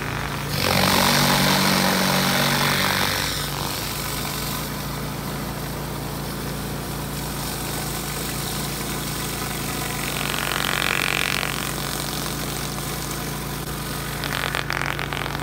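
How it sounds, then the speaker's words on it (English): A power washer engine drives a surface cleaner over commercial concrete, a steady mid-pitched drone with a louder rushing swell early on and a smaller swell later, running continuously with no talk. "Now we're going to do a surface cleaner wash and see what we can get off and clear it up pretty well."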